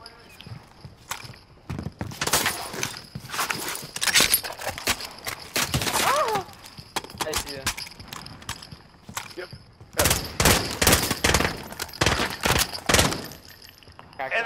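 Gunfire in a Call of Duty match: bursts of sharp shots crackle in clusters with gaps between them, while players talk excitedly over the action.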